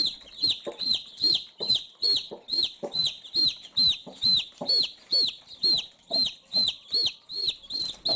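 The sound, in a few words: chicken clucking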